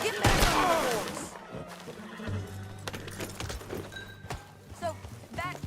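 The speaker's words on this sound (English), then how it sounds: "Get back on the horse." A horse in the video game Red Dead Redemption 2 whinnies loudly at the start, then its hooves clip-clop in an uneven rhythm as riding begins, with a few thuds and short game sound effects mixed in.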